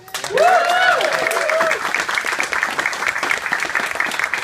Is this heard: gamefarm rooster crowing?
no